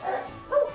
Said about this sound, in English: The dogs were not happy about me leaving.